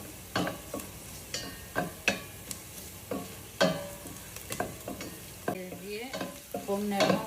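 Onion and garlic sauté in a pan, with stirring scrapes and clinks of a spoon against the metal over a soft background sizzle, in intermittent bursts close by.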